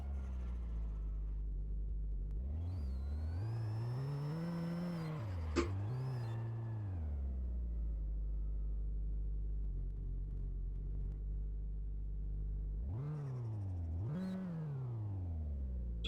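Car accelerating down a quarter-mile drag strip in the video game My Garage; engine revs climb in rising sweeps with gear changes, then a second burst of acceleration later, steady and fairly clear with no talk.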